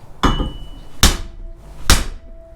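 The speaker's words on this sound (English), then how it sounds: "now I'm gonna whale on this with a hammer" Three heavy hammer blows ring out on welded steel held in a bench vise, evenly spaced and loud, each leaving a brief metallic ring.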